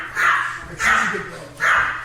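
A dog barks three times upstairs inside a house, evenly spaced, fairly loud but slightly distant, with people talking nearby.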